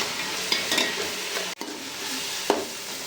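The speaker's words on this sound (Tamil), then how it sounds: "வெங்காயம் போட்டு நல்லா வதக்கி விட்டுட்டு அப்புறம் கொஞ்சம் பச்சை மிளகா போட்டுருவோம்" Onions with green chilli and salt sautéing in a pan for chicken biryani, a soft steady sizzle with occasional stirring scrapes and a couple of sharper clanks of the spoon against the pan.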